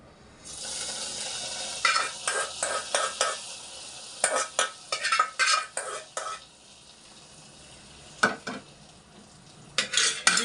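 Ghee-fried cashews are stirred into a bottle gourd payasam, with bursts of a metal spoon scraping and clinking against the pot over a faint sizzle, coming in irregular clusters with quiet gaps between them.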